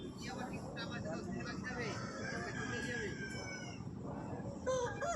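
A rooster crows and clucks at a busy rural fowl market in Jhargram district, West Bengal, under steady crowd chatter and someone speaking nearby.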